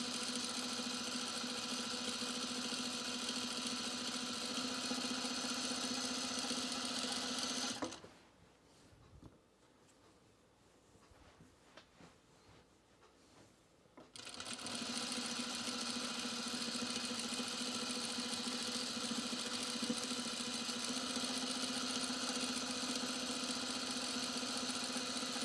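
A sewing machine binds the perimeter of a pajama pocket with a steady, buzzing motor whir. It halts for about six seconds of near quiet, then resumes at the same even pace.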